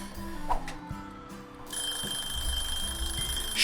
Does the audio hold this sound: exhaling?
no